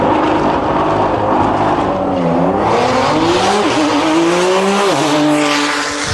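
A Corvette and a Porsche 911 drag race side by side at a DCT World Cup event, engines roaring loud and close as they rev and shift, with rising and falling pitch through the gears.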